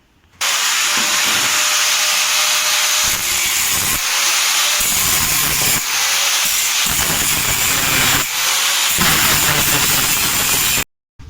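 Loud, harsh motorcycle exhaust roars steadily from a silencer with its inner pipe cut out, swelling and dipping roughly once a second as the throttle is blipped, then cutting off abruptly at the end.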